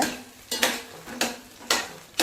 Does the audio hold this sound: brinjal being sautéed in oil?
yes